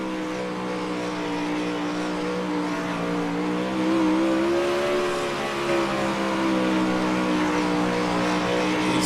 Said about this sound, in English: These cars are just screaming, the sprint cars ripping, rock and rolling here at Lanier National Speedway